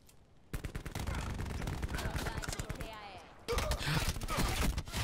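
Rapid automatic gunshots in the Call of Duty: Black Ops 4 beta, loud close bursts that pause briefly before a renewed heavy volley.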